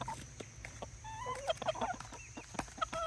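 Hens cluck softly in short, scattered bursts as they peck at dried sunflower heads, with faint pecking taps in a quiet outdoor setting.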